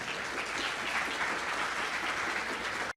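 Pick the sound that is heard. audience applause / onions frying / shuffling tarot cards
audience applause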